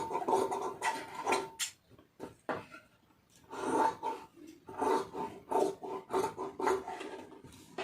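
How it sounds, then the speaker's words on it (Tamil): Scissors snip through blouse fabric pieces in repeated rough, rasping strokes that come in bursts with brief pauses, close and fairly loud, with no talk. "ஒரு முக்கால் இன்ச்சு அளவுக்கு வந்து கட் பண்ணிக்கிறோங்க"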